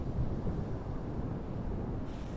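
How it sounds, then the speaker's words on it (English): A stiff west-northwest wind blows steadily across an Atlantic beach on Fire Island in winter, with a continuous loud roar and buffeting against the microphone and no talking. "There's a pretty stiff breeze out of the west-northwest right now"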